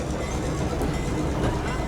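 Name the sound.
passenger train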